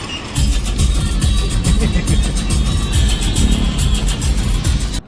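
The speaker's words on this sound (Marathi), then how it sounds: "आपला ट्रक आलेला आहे." A pickup truck pulls up with a steady, close engine rumble and a throaty low-end chug that holds for about five seconds, with no voices over it.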